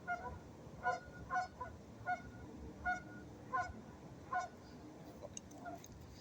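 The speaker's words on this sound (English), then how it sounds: "Bird dog chasing the geese." Geese honk repeatedly in short, irregular bursts, moderately distant, over a soft outdoor background.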